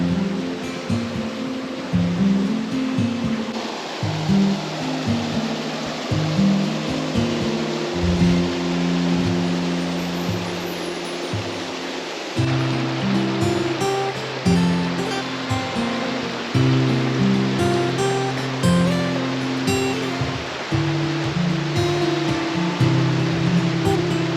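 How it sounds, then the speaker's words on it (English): Waterfalls in Glencoe, Scotland pour in a continuous, dense rush of water, loud and close, with a steady broadband roar and no voices over it. "Got a bit more of the waterfalls."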